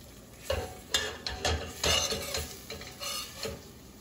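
Dried chipped beef sizzles in a pan, a steady frying hiss broken by scraping and stirring clicks of a utensil against the pan, fairly close and clear with no talking.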